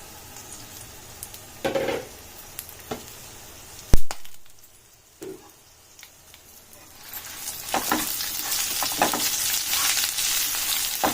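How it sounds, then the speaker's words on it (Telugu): Two bunches of fresh mint leaves fry in a pan for a chutney. Soft sizzling is broken by scraping and clinks from stirring, and it builds into a louder, fuller hiss toward the end. "ఇలా మంచిగా వేయించుకోవాలండి"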